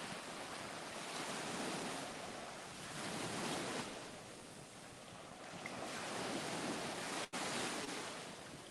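Ocean surf rolls in and breaks on a wide beach in steady, overlapping washes, loud and close, with wind rushing across the microphone and no voices.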